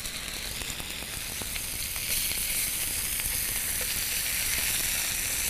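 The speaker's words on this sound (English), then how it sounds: "we're just going to drop our Sculpin in here" Small pieces of sculpin fish frying in olive oil in a hot pan, a bright hissing sizzle that swells slightly midway and holds steady, close up with no voices.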